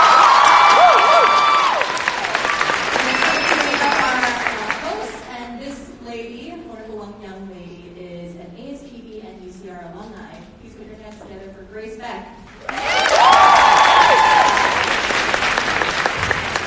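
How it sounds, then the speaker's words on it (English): An audience claps and cheers loudly for several seconds, fades to a stretch of talk, then breaks into another full round of applause near the end. "Please get another round of applause."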